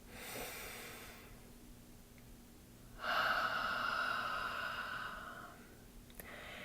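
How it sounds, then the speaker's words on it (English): Slow, deep breathing, a long airy inhale through the nose followed by a softer exhale through the mouth, close and quiet with no talking. "let's just take a nice deep breath in through our nose and out through our mouths"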